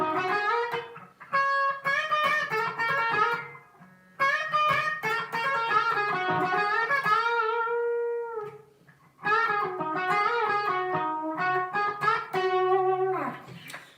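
A bluesy electric guitar line with sustained bent notes and sliding phrases in three bursts separated by brief pauses, heard alone without talk.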